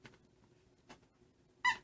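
Squeaky dog toys give a few short, separate squeaks, a faint one early on, another near the middle and a louder, sharper one at the end, with no voices.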